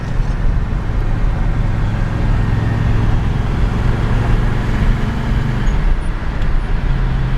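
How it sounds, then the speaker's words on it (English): A 1972 Chevrolet Chevelle cruises down the road at about 45 mph, heard from inside as a steady, loud low engine drone with road rumble, holding an even tone throughout. "The car's tracking down the road pretty straight."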